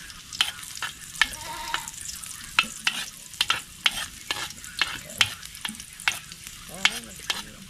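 Ginger and garlic fry in a pan, with a steady close sizzle broken by repeated sharp scraping strokes of a utensil stirring the mix.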